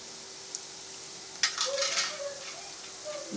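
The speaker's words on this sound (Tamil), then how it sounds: "இதே மாதிரி லைட்டா கிளறி விட்டுக்கோங்க" Pakkavadai frying in hot oil is stirred, giving a soft steady sizzle with a few light scraping stirs and clinks near the middle and end, close and fairly quiet.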